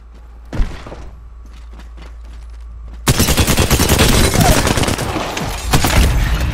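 A single shot, then a dense, loud, sustained volley of rapid gunfire in the Apex Legends battle royale game, filling the second half and continuing to the end.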